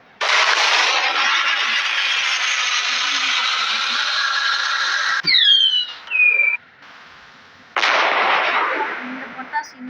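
Firecrackers burst in the Fireworks Simulator video game: a long loud crackling roar, then a few sharp whistling pops and a short gap before another loud crackling burst.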